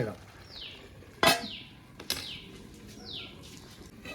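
A spoon stirs a pot of bitter gourd and mango curry, with two sharp metallic knocks against the pot amid soft scraping and low background noise.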